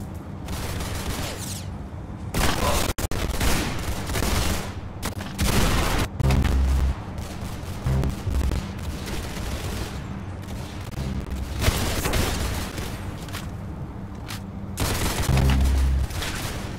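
Gunfire in the Roblox Arsenal game, repeated loud bursts and booming shots coming in irregular clusters with short gaps between them across the stretch.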